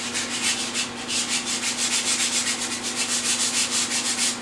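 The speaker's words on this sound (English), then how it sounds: "the last step that you have to do is to go back and just give a light sand" Sandpaper is drawn lightly over a dry, freshly coated surface in steady back-and-forth strokes, an even rhythmic rasping that stays close and continuous throughout with no voices.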